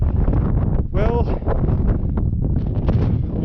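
Gusty wind on a mountain trail up Sleeping Beauty, buffeting the microphone in loud, uneven rushes that rise and drop throughout, with a brief whistling tone partway through.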